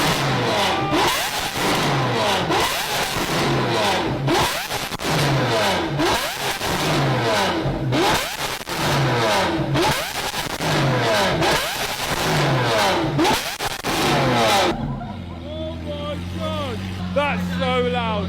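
A Lamborghini Aventador SVJ engine revs hard in a rapid string of loud, close bursts with crackling pops, then drops back to a lower, steady idle near the end.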